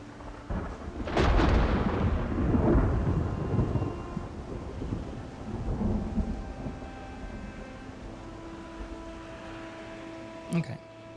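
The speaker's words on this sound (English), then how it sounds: "I love the thunderstorm sounds in the game." Thunderstorm with rain in Project Zomboid: a heavy rumbling thunder roll builds early and slowly fades into a steady, softer rain wash, with a sharp crack near the end.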